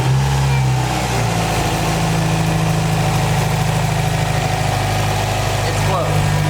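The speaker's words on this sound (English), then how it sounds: "Next step here is to start the car" Subaru STI engine fitted with a MaxpeedingRods blow-off bypass hybrid valve starts and settles into a steady, loud, close idle with a constant low rumble throughout.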